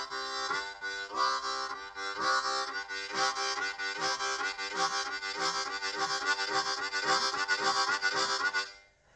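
Harmonica played in a steady chugging rhythm with the accent on the blow notes, giving a driving train-like pulse; loud, close and continuous without talk, before cutting off at the end.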